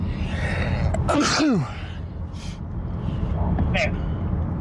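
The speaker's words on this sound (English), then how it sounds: "Oh, I gotta sneeze." A single loud sneeze from a person on a cop-recording patrol, with a sharp gasp-like onset and burst, heard close against a steady background hum from a car interior, with brief voice sounds around it.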